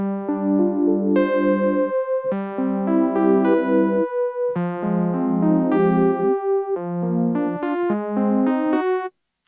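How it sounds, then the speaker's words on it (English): A synth plays arpeggiated chords, clean notes rising and cycling in a steady pattern across several chord changes, up close and fairly loud, then stopping abruptly. "we're going to do this kind of like arpeggiated layer that sounds a bit like this"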